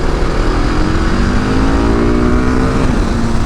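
Dual sport motorcycle with a big single-cylinder engine ridden off-road, its loud, steady engine drone rising slightly in pitch as it accelerates, close up with no talking.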